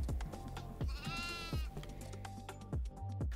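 A goat in the horror video game Devour gives a loud, wavering bleat near the middle, surrounded by repeated thumping impacts and game noise with no speech.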